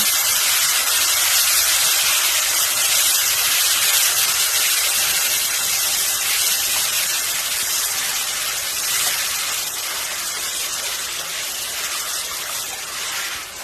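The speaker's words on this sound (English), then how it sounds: "I've got chicken broth tonight going in" Chicken broth goes into a hot pan of dark gravy left from frying pork chops, giving a loud, continuous sizzling hiss that eases off slightly toward the end.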